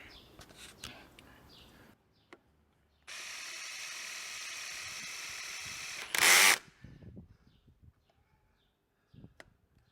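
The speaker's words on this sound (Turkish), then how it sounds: "oturduktan sonra vidaları güzelce atıyorsunuz" Screws are driven in during the mounting of a Bluetooth module on an Aprilia Tuareg motorcycle. A small power driver whirs steadily for about three seconds, then a brief louder burst follows, with light handling clicks around it in quiet surroundings.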